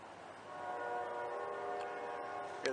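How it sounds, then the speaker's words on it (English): A train rumbles past at a distance with a steady tonal horn-like drone that swells and fades, ending with a sharp clank. "The train in the background."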